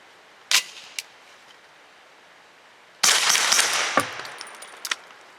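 A Grand Power Stribog pistol-caliber carbine fires Hornady Critical Duty 135 grain rounds, giving several sharp, loud reports spaced irregularly, one followed by a longer burst of echo and clatter, with no talking.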